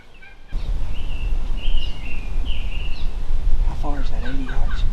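Two wild turkeys gobble repeatedly during a spring hunt in Kansas, loud, rolling calls standing out over steady outdoor noise, with a few softer clucks and yelps mixed in near the end.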